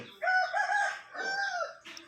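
A Kaki rooster crows nearby, one long, clear, drawn-out call with a rising then falling shape, followed by a short extra note at the end.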